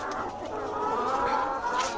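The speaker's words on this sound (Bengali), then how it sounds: "এটা হচ্ছে আমাদের ডিমের মুরগির শেড।" A shed full of egg-laying hens, about 175 to 180 days old, gives off a dense, steady chorus of overlapping clucks and murmurs. The flock is close and continuous, with no talking.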